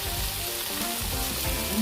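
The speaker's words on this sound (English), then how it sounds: "Now after 2 minutes of sauteing, what I'm doing is I'm going to add the mushroom" Mushrooms sauteing in a pan for a mushroom broccoli soup, a steady close sizzle with low crackling running through the whole short stretch, no voices.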